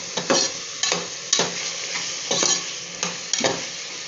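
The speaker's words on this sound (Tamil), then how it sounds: "இப்போ வெங்காயம் நல்லா வதங்கிடுச்சு" Onions and country tomatoes fry in a pan while being stirred, a continuous close sizzle broken by regular scraping strokes of the spoon roughly every half second to second.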